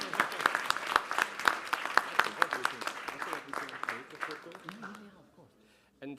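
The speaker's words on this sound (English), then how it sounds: "Let's get the applause." Audience applause at an Oxford-style debate, a dense burst of clapping from a roomful of people that stays strong for several seconds, then thins out and dies away near the end.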